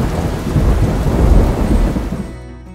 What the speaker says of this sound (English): as stormy skies approach that evening, we get a fright with some big nearby strikes.